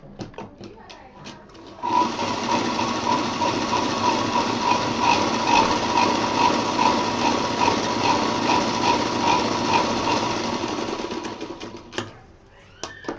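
A sewing machine runs steadily for about ten seconds as it stitches the edge of a fabric cushion cover, giving a fast, even mechanical rattle close up that starts and stops cleanly.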